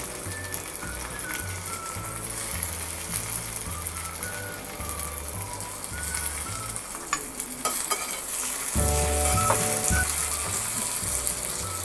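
Tomatoes added to pinkish-brown onions in a pan for a dry prawn (sukhi kardi) dish, a steady close sizzle with repeated spoon stirring and scraping throughout, no voices.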